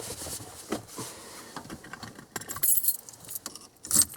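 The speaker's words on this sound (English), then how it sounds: "And now I just gotta find the keys again." A bunch of keys jangles and clinks near a 1998 Dodge Ram 1500 steering column during work on the transmission selector handle, with irregular metallic rattles that get louder toward the end and no talking.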